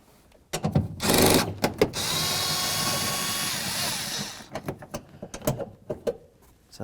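A power tool backing out a 10mm bolt from the tail light assembly of a 2008-2013 Nissan Rogue, a loud close whirring burst of about three seconds framed by clicks and handling knocks.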